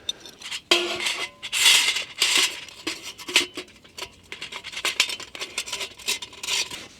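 Metal parts of a remote canister stove being threaded and clipped onto a gas canister at a wild camp, a run of close scraping, rubbing and light metallic clinks with no talk.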